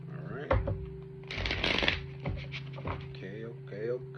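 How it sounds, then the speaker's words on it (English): Tarot cards are riffled and shuffled by hand in a burst of crisp, papery flutter, with quieter handling before and after and a person talking throughout. "Let me get one more shuffle for Sag."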